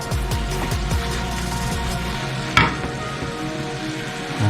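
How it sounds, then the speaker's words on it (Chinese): Curry chicken being stir-fried in a pan, loud continuous sizzling with scraping strokes of a spatula, one sharp clack near the middle. "翻炒均匀"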